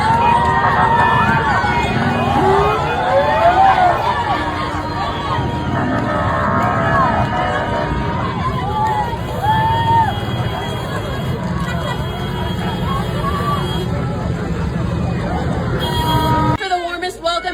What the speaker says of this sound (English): Merab Davalishvili returns to Georgia, and the crowd erupted like never before.